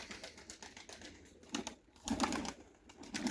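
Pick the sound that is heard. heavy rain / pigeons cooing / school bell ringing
pigeons cooing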